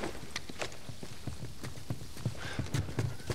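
Horses clip-clop along in The Last of Us Remastered, their hooves striking in a steady, close walking rhythm of sharp, distinct knocks over a faint ambient background, with no talking.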